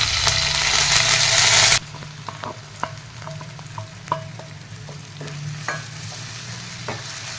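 Eggplant gojju is mixed in a pan off the heat: a brief loud rush at the start, then a quieter hiss with sharp, irregular spoon clicks and scrapes close by, no speech.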